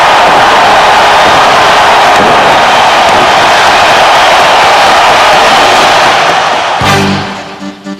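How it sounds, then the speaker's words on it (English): Roaring hockey arena crowd at a Toronto Maple Leafs playoff game, a loud dense wall of cheering that holds steady, then drops away abruptly near the end. "And listen to this crowd"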